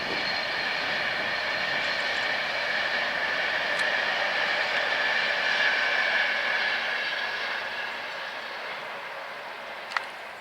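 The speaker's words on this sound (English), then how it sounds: "Those trains, by the way," Trains pass near Berkhamsted Castle as a steady, distant rolling rumble with a broad hiss that swells and then slowly fades over about ten seconds, with no voices.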